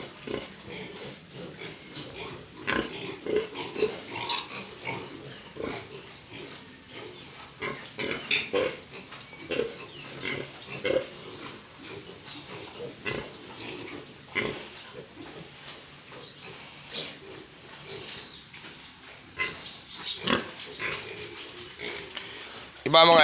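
Pigs grunting at close range in a pen, including a sow with her piglets. Short irregular grunts and oinks run throughout against a faint steady hiss, with a person talking over them.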